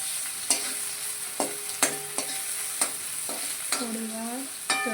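Finely chopped tomato frying in a pan while it is stirred, with a steady hiss and sharp spoon scrapes every second or so, and no talking.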